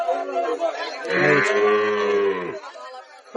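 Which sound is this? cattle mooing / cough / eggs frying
cattle mooing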